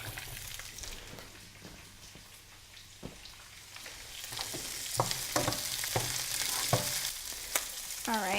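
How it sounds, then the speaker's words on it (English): Onion and peppers sauté with caramelized garlic in a pan for spaghetti: a continuous close frying hiss that swells as it goes, punctuated by repeated spoon scrapes and clicks. "I'm just going to saute that until the peppers have gotten just a little bit tender"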